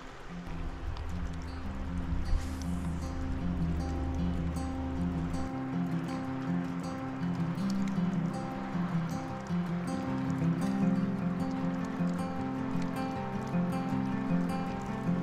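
A river runs in spring beside an off-grid cabin, a steady broadband rush of flowing water with a low droning hum underneath, continuous and moderately close.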